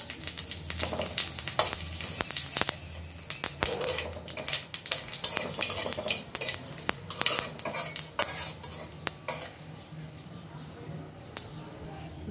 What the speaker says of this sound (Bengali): আমি এই মাছ ভাজা তেলের ভিতরেই ফোড়ন দিব জিরা,